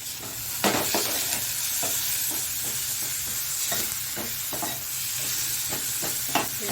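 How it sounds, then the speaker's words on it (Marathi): Chopped tomatoes sauté in a pan for pav bhaji, a steady close sizzle broken by repeated spoon scrapes and stirring knocks against the pan, with no talking. "टोमॅटो छान परतवून घेऊया आपण।"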